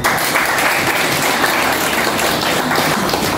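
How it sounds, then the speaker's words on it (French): Steady applause from a crowd at a school ceremony, a dense patter of many hands clapping at even strength for the whole few seconds, with no voices on top. "Cette marque d'affection à l'égard de ses élèves mérite bien des applaudissements."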